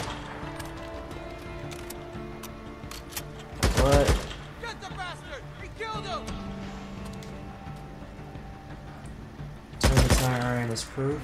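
In Days Gone, gunshots fired at the player crack out as two loud, close bursts several seconds apart, amid game sounds and spoken dialogue.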